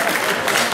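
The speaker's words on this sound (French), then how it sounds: "pourquoi vous m'applaudissez?" Seniors at a banquet in Mantes-la-Jolie applaud a speaker, a brief, dense wash of clapping from a close crowd heard alone.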